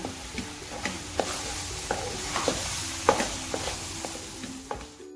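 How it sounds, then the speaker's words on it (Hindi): Grated carrot halwa with khoya fries in a pan, a steady sizzle broken by regular scraping strokes of a spoon stirring it, close and continuous with no talking. "अब इसमें मैंने खोया डाल देना है। खोया डाल देके, ठीक है। अब मजीद मैंने इसको 5 मिनट के लिए और भूनना है।"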